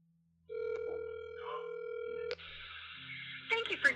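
A telephone on speakerphone puts out a steady tone, then a click and a change to a different ringing tone, with faint talk in the background.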